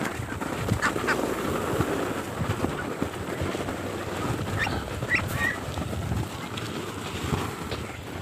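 Pet ducks quack in a rural backyard, scattered calls at moderate distance over a rumbling, noisy outdoor background; no one speaks.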